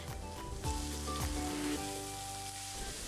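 Onion, green chili, curry leaves and chopped ripe tomato sauté in a pan with a steady close sizzle, a few stirring clinks and tonal tones running under it.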